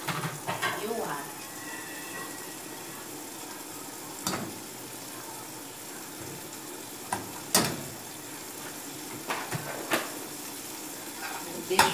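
Garlic sautés in a little oil in a pan, a steady close sizzle with occasional sharp clinks and scrapes of a utensil against the pan, while someone talks intermittently over it.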